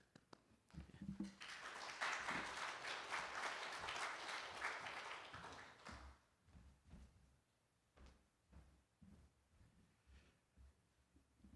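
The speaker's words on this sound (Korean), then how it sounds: "우리 환영의 박수 해주시고" Members of a church congregation at a Sunday worship service give a burst of welcoming applause for about five seconds before it fades into quiet shuffling and a few soft knocks.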